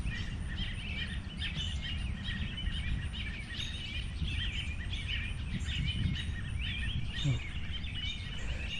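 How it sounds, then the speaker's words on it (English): Small birds chirp and twitter repeatedly in a summer garden among flowering perennials, a busy, fairly faint chorus over a steady outdoor hiss. "I don't know what's going on with the birds over there."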